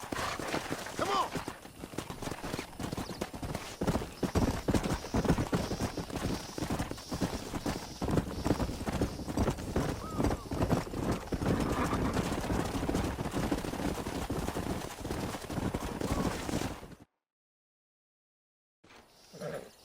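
Horses gallop in the Red Dead Redemption video game, a dense, loud drumming of hooves with a neigh and some voices in the mix, running steadily before cutting to silence near the end.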